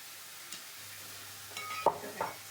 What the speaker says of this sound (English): you're just kind of frying the egg